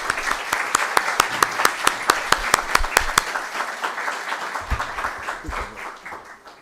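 An audience claps to welcome a professor at a talk on classical literature in education, with a steady rhythm of sharp, fairly close claps that thin out and fade toward the end.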